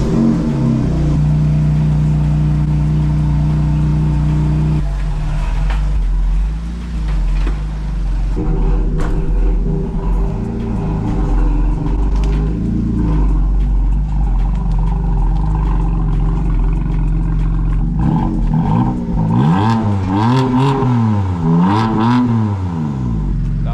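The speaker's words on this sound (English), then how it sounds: "Now all we have to do is pull out the M4." A BMW M4 engine cranks and catches after sitting in the cold, then settles into a loud rumbling idle before several sharp revs rise and fall near the end, close and dominant.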